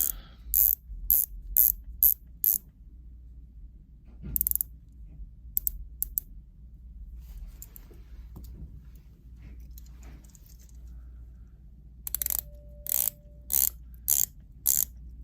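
Rapid clicking bursts of an Omega watch bezel ratcheting as it turns, in several quick runs with pauses between, close and crisp.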